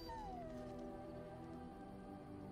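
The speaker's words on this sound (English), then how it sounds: "Doggy." A dog in the Dragon Age video game whimpers in a long, high, falling whine that drifts downward and trails off, quiet and alone over faint background ambience.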